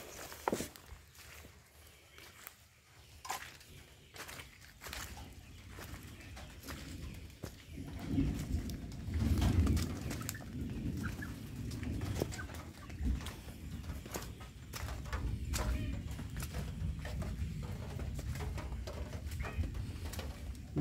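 Soft, low pigeon-like cooing repeats in the background of an outdoor scene, mixed with footsteps and scattered clicks.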